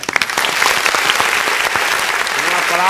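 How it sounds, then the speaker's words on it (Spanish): Audience applause at a dance show, dense, loud and close, with sharp individual claps standing out and some voices mixed in. "un aplauso"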